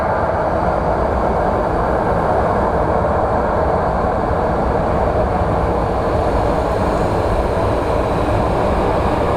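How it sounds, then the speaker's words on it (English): A Sun Country Airlines Boeing 737 bound for Minneapolis at Phoenix Sky Harbor airport at sunset, giving a steady, loud, broad engine roar that holds without a break from start to finish. "It's a Sun Country Airlines Boeing 737 headed to Minneapolis."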